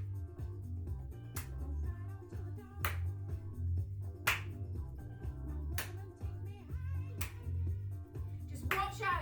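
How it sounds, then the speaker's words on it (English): Sharp hand claps ring out roughly every one and a half seconds during a seated exercise class, each clap standing alone over steady low background music, with a quicker flurry of claps at the very end. "we're going to add a little clap"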